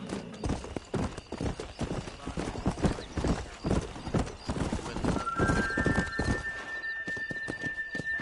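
Hooves clip-clop in a rapid, driving rhythm as a horse gallops in the Western game Red Dead Redemption, with a whinny and a voice over the hoofbeats.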